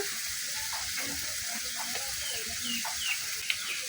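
Onion frying in hot oil with ground spices for a desi duck curry cooked in a village kitchen on a rainy day; a steady close sizzle fills the whole stretch, with faint stirring sounds and birds in the background.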